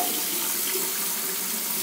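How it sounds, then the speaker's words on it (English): Cold tap water runs steadily into a bowl while slime is being made at home, a continuous close splashing rush with no talk over it. "That was a lot of water."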